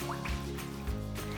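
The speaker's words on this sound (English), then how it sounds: "And then I'm gonna add 1/4 cup of water." Water being poured into a lime juice and sugar dressing for a Thai beef salad, a steady close liquid trickle with a couple of soft drips, heard alone without talk.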